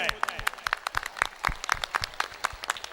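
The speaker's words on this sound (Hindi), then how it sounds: "तो इनके लिए एक जोरदार ताली हो जाए." Scattered clapping from an audience at a school annual day celebration, uneven and fairly close, with separate claps audible rather than a dense roar, over a brief three seconds.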